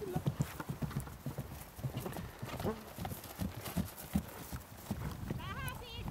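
Horse hooves clip-clop in a steady rhythmic series close by, with a brief whinny near the end and people talking over the hoofbeats.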